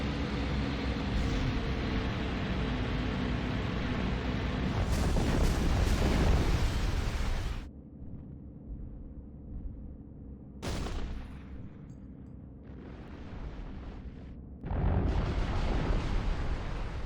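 Bombs dropped from a Bristol F2 biplane explode on a supply dump in the Rise of Flight flight sim, giving heavy rumbling blasts over a constant engine drone, with loud bursts near the start, middle and end.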